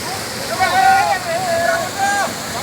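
Hundru Waterfalls on the Subarnarekha river in Jharkhand, a steady rushing roar of falling water heard under someone speaking over it.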